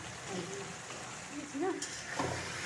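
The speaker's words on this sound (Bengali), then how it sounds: "এবার আলু বেগুনটা কষতে থাকবে" Potato and eggplant sautéing in a home-cooking pan give a steady, close sizzle with soft stirring scrapes and brief clinks. A few faint voice-like tones sit under the frying.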